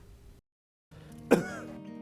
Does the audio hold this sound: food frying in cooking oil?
no